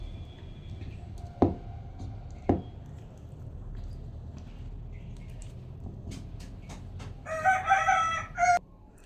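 A local rooster calls near the end, a loud nearby crowing burst after scattered knocks and clatter over a low rural background hum.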